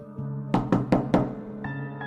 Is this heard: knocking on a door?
yes